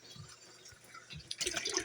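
Water runs from a hot or cold tap, starting as faint drips and light trickles that swell into a brighter, louder splashing flow during the final half second.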